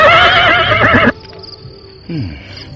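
A horse neighs loudly and clearly for about a second, a shrill whinny that cuts off sharply, followed by quieter background sounds and a brief low whinnying tail.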